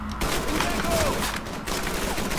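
Steady dense gunfire in Call of Duty 3 during a night-time rooftop level, continuous and moderately loud throughout, with a voice briefly underneath.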